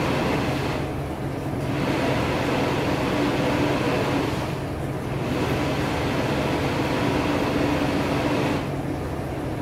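A food processor pulsing chopped peppers and onions, a steady motor whir broken by short gaps between pulses, moderately loud and alone without talk.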